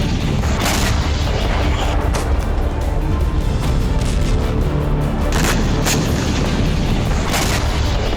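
Explosions from the Russia-Ukraine war: repeated heavy blasts and booms over a dense, loud, continuous rumble of battlefield noise.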